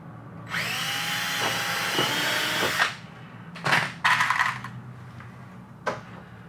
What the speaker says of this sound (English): We're going to drill our first hole.